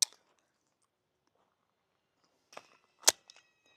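Springfield Echelon pistol fired at a steel target, with one sharp crack at the start and then, after a pause, a closer pair of sharp bangs, each trailing short metallic ringing.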